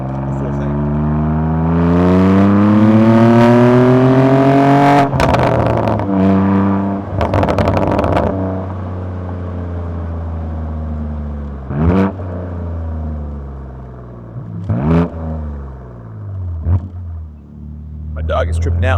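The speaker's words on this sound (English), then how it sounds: "This is how my exhaust currently sounds out on the street. Exhaust fully open, sport mode, the full thing." A BMW G8x M4 with its exhaust fully open in sport mode revs loudly on the street, a deep harmonic engine tone climbing and falling through several sharp blips, with a voice talking over parts of it.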